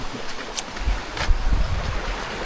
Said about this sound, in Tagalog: dito na kami sa ilog oh